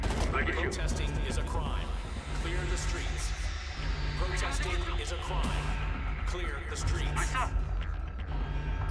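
Gunfire in Homefront, dense and continuous, with repeated shots layered over a busy battle backdrop and a voice talking throughout.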